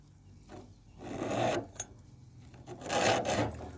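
Close, raspy strokes of a metal file sharpening chainsaw chain teeth, several pushes in an uneven rhythm with short pauses between, no talking.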